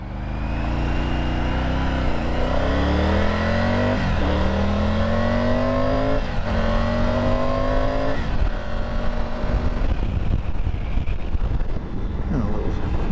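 A 2023 Triumph Tiger 900 Rally Pro adventure motorcycle accelerates while being ridden, its engine note rising steadily through the gears with shifts, loud and continuous against wind noise.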